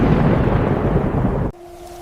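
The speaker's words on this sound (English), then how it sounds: "That is thunder! That sound!" A loud, deep rumble of thunder rolls for about a second and a half, then cuts off abruptly, leaving a low steady hum.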